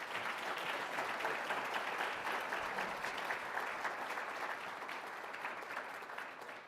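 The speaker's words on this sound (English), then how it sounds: "A round of applause, please." Audience at a Detroit Economic Club event applauding, a steady wash of many hands clapping at a moderate distance that holds evenly and fades slightly toward the end, with no talk over it.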